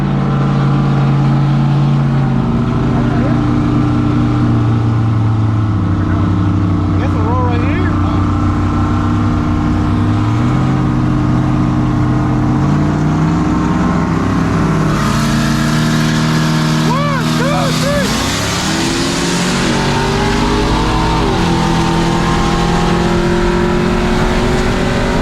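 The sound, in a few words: 6.0 swapped OBS truck and turbo 4.8 Sierra racing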